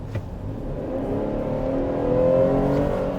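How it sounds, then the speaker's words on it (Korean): A smooth Chevrolet Traverse V6 engine hums from inside the cabin, rising gently in pitch as it accelerates, moderately loud and steady throughout. "얘도 상당히 부드러운 엔진음이 넘어오는데 그 볼륨 자체가 작진 않아요."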